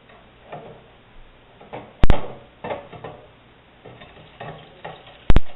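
Toast fries in butter in a pan for egg-in-the-hole, giving soft intermittent sizzles and scrapes, with two sharp loud clicks from the pan or utensil.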